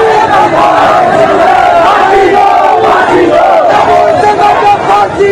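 A dense crowd at a rally stirred up by an activist shouts together in a steady, loud roar of massed voices that fills the whole stretch without a break.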